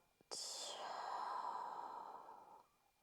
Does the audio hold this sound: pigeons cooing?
no